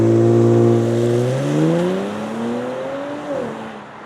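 A Kia Stinger launching from a standstill under launch control: a loud engine note climbs steadily in pitch, dips briefly at each gear change and climbs again over about four seconds.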